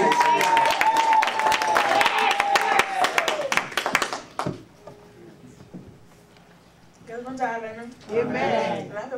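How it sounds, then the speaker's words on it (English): Church congregation bursting into loud applause and cheering, dense clapping that fades out, followed by a pause and then a person speaking. "Alors applaudis-les."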